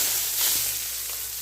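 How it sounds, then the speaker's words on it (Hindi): Hot tadka tempering hits a pot of mung and masoor dal with a sharp, bright sizzle that swells quickly and then settles into a steady frying hiss, close and fairly loud. "ये देखें अभी जो हम इसको थोड़ा सा तड़का लगा देते हैं"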